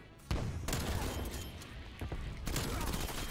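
Rapid bursts of PPSh-41 submachine gun fire in a video game crackle loudly and repeatedly across the clip, with short pauses between volleys and dense gunfire texture throughout.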